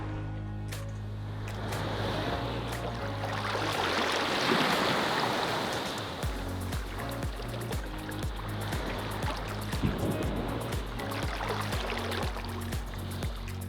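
Kayak paddling on the sea off a beach club in Anguilla: steady water swishes and lapping waves, with a continuous rushing wash under faint music-like tones, no talk.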